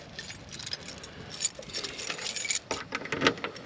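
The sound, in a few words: keys jangling as they are taken out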